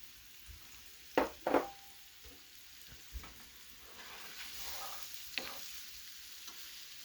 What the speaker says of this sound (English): we're going to add our mushrooms, and we're going to let that cook about 4 to 5 minutes